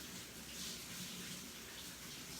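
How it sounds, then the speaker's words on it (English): Clean water runs steadily through a fine strainer of cashews being rinsed, a continuous close hissing gush with no talking. "I just put them in this fine strainer, and I'm just going to rinse them with some clean water"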